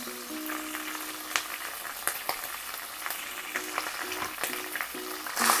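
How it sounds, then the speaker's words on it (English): Cumin seeds, ginger and garlic frying in olive oil in a pan, a steady low sizzle with scattered crackles and pops throughout, fairly quiet with a brief louder burst at the end. "add some jeera seeds and ginger garlic"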